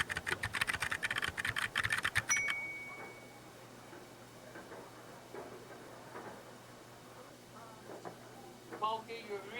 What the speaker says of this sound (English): you're really slow with typing